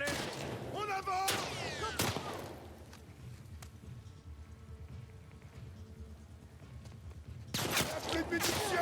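Gunfire in The Last of Us, with a few sharp shots near the start and a burst at the end over steady rain-like background noise, while voices call out during the fight.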